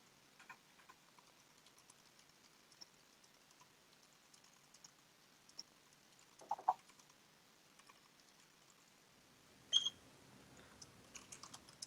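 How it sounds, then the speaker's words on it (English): Random keys tapped on a computer keyboard, faint scattered clicks with a few louder bursts of quick keystrokes and no voices. "just keep typing because I wanted to go beyond the screen"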